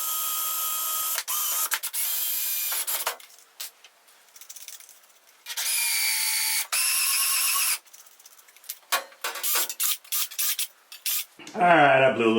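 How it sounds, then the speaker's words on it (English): A drill bores mounting holes for a Kennedy machinist tool box and mid chest on a roller cabinet, in several loud, whining bursts separated by short pauses and quiet handling noise, close up. "Get our last set of holes drilled and we'll get this thing mounted in place."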